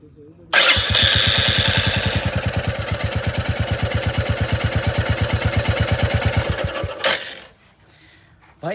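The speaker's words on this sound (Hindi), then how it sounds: "नज़दीक आओ, आवाज़ सुनना, इंजन की आवाज़ सुनना।" A Royal Enfield 350 Standard Bullet motorcycle starts up close by and settles into a loud, evenly thumping idle for several seconds, then cuts off into near quiet.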